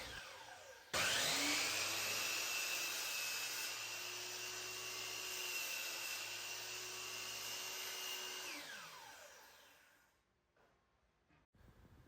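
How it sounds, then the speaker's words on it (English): Power saw cutting a wooden chair back leg with a 15-degree angled cut, a loud steady whining motor and rasping blade through the wood for several seconds, then winding down and stopping. "Here I am starting off and cutting the back legs down to 20 3/4 of an inch with a 15-degree cut on one of the ends."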